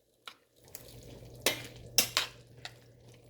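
Sofrito being stirred in a pan for a calabaza con pollo rice dish, with a few sharp utensil clinks and scrapes against the pan over a low steady hum, close and fairly quiet, no talking.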